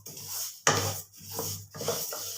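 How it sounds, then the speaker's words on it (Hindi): Flaxseed being dry roasted in a kadai over medium to low flame, a dry scraping rasp as a spatula rubs the seeds against the pan in three long strokes, close and alone. "कढ़ाई के अंदर हम अलसी को डाल देंगे और मीडियम टू लो फ्लेम पे हमने इसकी भुनाई करनी है अच्छे तरीके से"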